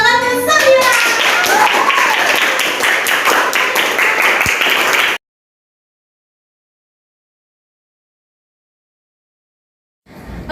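A class of students clapping together in a school classroom, a burst of quick, rhythmic hand claps with some children's voices mixed in, cut off abruptly into silence before a faint return at the very end.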